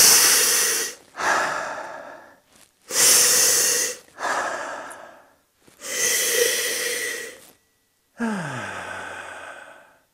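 Strong, close nasal sniffs of wine aromas from a glass come as about six loud, rushing breaths in quick pairs, separated by short silences, with no talking.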